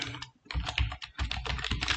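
Code is typed into Scilab on a computer keyboard in a quick, close burst of clattering keystrokes, with a brief pause early on, lasting about two seconds with no speech.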